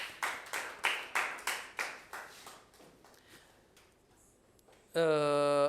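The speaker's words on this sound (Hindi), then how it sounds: "तालियां बजाएं इसके लिए" Children in an Urdu alphabet lesson clap together in a short burst of about nine rhythmic claps that fade out, followed by a loud, steady tone.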